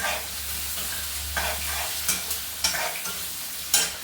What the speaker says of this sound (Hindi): कड़ी का तड़का रेडी है, मतलब डाल चुकी हूँ मैं तेल में तड़का सारा